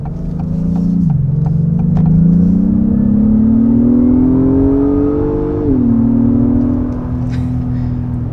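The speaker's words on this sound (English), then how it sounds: "Obviously this is going to rev things out, keep it in its high performance, most potent mode." A 2022 Acura MDX Type S engine revving steadily under acceleration, a loud continuous drone that climbs in pitch, dips briefly with a gear change, then climbs again, heard from inside the cabin.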